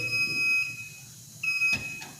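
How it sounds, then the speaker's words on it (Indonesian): A steady electronic emergency buzzer on an industrial automation trainer panel sounds as a high continuous tone. It cuts out briefly, returns, and ends with a short knock, in a quiet workshop room. "sekarang nyala semuanya, indikator buzzer, suara, sama lampu emergency"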